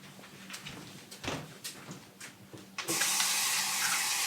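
Tap water gushes into a pot for pea pod broth after a few scattered clinks and knocks, the steady broadband rush starting loud and close partway through and continuing to the end.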